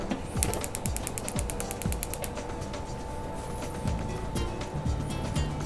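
A stove burner is switched on under a pot of onions with a quick run of sharp ratcheting clicks, followed by a steady low hum and scattered kitchen clatter.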